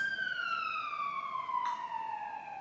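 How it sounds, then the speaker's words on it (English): An ambulance siren passes by outdoors, a loud wailing tone sliding steadily downward in pitch as it moves away, heard alone without talk. "The ambulance is coming by."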